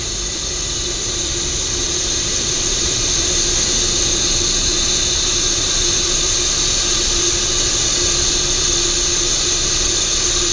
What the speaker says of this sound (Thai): โมดูเลตมันก็จะทำงานเร่งอัดแก๊สขึ้นไปนะครับตัวนี้ก็จะแรงขึ้นปลั่งขึ้น